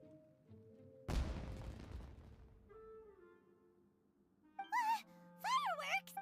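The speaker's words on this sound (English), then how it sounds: "Was that an explosion? It sounded like fireworks." Fireworks explode in the Genshin Impact video game: one sudden loud boom with a rumbling, crackling tail that fades over a few seconds, followed by short bright, warbling tonal sounds near the end.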